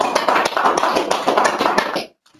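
An audience applauds a speaker after a question-and-answer session, a steady patter of close, crisp hand claps that stops abruptly near the end.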